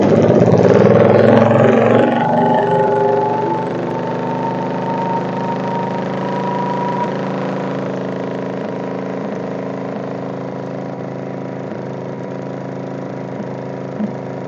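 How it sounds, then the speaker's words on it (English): A Case 224 garden tractor engine revs up loudly for about two seconds, then settles into a steady, fairly loud drone that holds through the rest of the clip. "Now I'll rev her up a little bit more and see."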